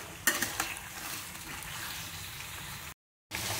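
Soaked black chickpeas (kala chana) frying in a pan give a steady close sizzle, with a few sharp clatters near the start and a short break of silence toward the end.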